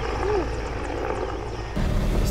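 A helicopter thumps with a steady, loud rotor chop over rumbling wind noise, continuous for a couple of seconds near a reality-show challenge site.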